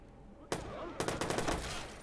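Gunshots in Watch Dogs land a headshot. A single sharp report is followed half a second later by a rapid burst of close, loud shots that fire in quick succession over a low background hum.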